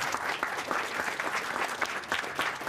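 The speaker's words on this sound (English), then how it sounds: "she really deserves a big round of applause for her" A crowd at a school capital campaign kickoff applauds warmly, a sustained even roll of many hands clapping at moderate volume for a few seconds, with no voices on top.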